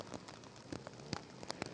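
Rain falling at an ATV motocross race, a soft patter of drops hitting surfaces with scattered sharper ticks, steady and fairly quiet, with no voices over it.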